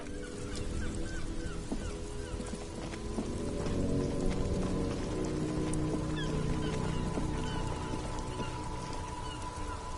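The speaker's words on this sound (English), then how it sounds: "It's raining again." Rain falls steadily outdoors, a dense even patter with scattered drips, continuous and fairly close throughout with no talk.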